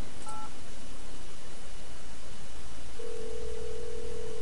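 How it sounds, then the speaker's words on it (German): A telephone is dialed in the video game Die Kunst des Mordens 2: a couple of quick keypad tones, then a steady held tone sounds over a dense, constant background hiss, with no voices. "Telefonieren kann man nämlich auch mal wieder."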